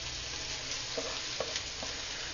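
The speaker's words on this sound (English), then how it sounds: "We'll fry it till it's cooked." Finely chopped onions frying in a pan for chicken masala, a steady close sizzle with a few soft stirring clicks, no voices.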